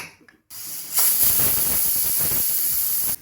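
A pressure cooker holding chicken lets off steam with a loud, sustained hiss that bursts out after a brief faint rattle and stays steady until it stops.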